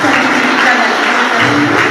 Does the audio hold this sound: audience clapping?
yes